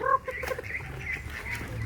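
Geese honk and cackle close by in a short, busy burst with low background noise.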